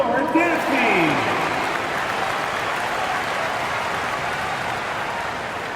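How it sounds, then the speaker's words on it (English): An arena crowd at an NBA game claps and cheers steadily for the dance team, a broad sustained wash of applause with a brief announcer-style voice over it at the start. "let's give a big round of applause for your dance team"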